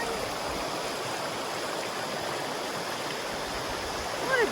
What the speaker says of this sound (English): The little rapids flowing.